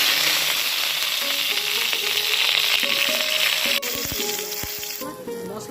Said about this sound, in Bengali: আমি যা যা খিচুড়ির জন্য কেটে রেখেছি এগুলো সব ভেজে নেবো। ও আলু ভাজা